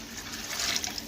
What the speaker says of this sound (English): I'm adding a whole bunch of water to our canning pot right here